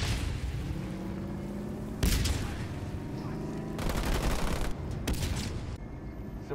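Enemy infantry gunfire in a video game, rattling in sustained volleys with several sharper, louder bursts of shots.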